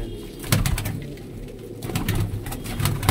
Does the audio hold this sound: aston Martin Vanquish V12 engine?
no